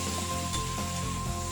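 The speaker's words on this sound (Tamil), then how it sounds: "வெட்டி வச்சிருக்கிற இது கோவக்காயை போட்டுடலாங்க. போட்டு அடுப்பை கொஞ்சம் குறைச்சிக்கிட்டு கொஞ்சம் நல்லா வறுக்கலாம்" Chopped ivy gourd frying in a pan on lowered heat, giving a steady close hiss of sizzling oil throughout, with no talking.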